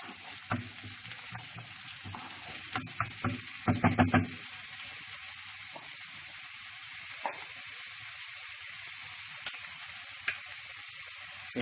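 Onion sizzles and fries steadily in hot oil in a pan, with clattering stirring and scraping in the first seconds, then a constant hiss alone.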